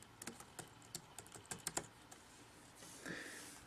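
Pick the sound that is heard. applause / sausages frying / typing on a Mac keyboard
typing on a Mac keyboard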